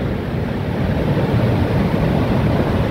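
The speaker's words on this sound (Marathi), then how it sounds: "बघा समुद्राच्या लाटा ऑलमोस्ट ते दगडांपर्यंत म्हणजे खडकांपर्यंत यायला लागलेल्या आहेत" Sea waves at Devbagh beach washing up toward the rocks at sunset, a continuous loud roar of surf mixed with wind noise, with no voices.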